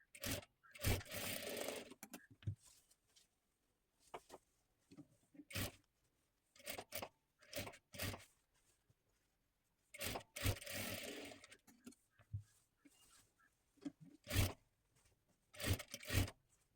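A sewing machine double-stitches the seams of a children's one-piece dress cut from a saree, running in short, faint bursts separated by quiet gaps, with no talking.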